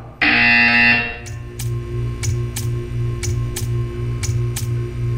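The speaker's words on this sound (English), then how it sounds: "You will hear a buzzer. When you hear the buzzer, stare at the art." A loud electronic buzzer sounds for about a second in a Portal 2 test chamber, followed by a steady series of sharp, evenly spaced ticks over a low mechanical hum.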